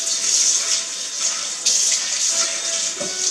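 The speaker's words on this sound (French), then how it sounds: "je vais mettre mes lentilles que j'ai bien rincées" Rinsed lentils and water pour into a cast-iron cooking pot as a steady, close rush of liquid for a few seconds.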